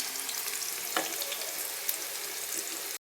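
Bottle gourd pieces fry in oil with a steady, close sizzle, and the occasional scrape of stirring sounds over it until the sound stops abruptly.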